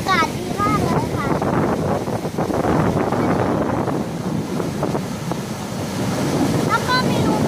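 Sea waves and gusting wind at Laem Mae Phim beach in Rayong, a steady broadband wash of surf with wind buffeting the microphone throughout, and faint voices in the background.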